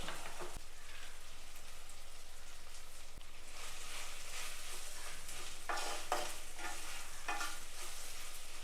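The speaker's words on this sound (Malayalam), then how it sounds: "ഇനി ഇതെല്ലാം കൂടി ഒന്ന് ഇളക്കി യോജിപ്പിച്ച് കൊടുക്കാം" Dried prawns and raw mango cook together in a Kerala-style curry in a pan, giving a steady sizzling hiss with several scraping stirs of a spoon, close and moderately loud, with no voice.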